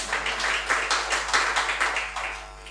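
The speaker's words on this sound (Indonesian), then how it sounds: "Tepuk tangan buat Allah kita." A church congregation at a worship service claps in a loose, rhythmic pattern, steady pulses of applause that gradually fade toward the end.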